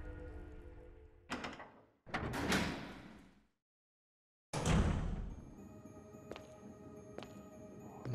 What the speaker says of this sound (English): So there's a new door here.